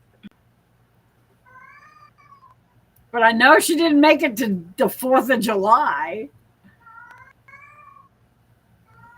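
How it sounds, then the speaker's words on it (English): A cat meows loudly and drawn out in the middle, with fainter meows before and after, while a person speaks at a moderate level. "That's the cat."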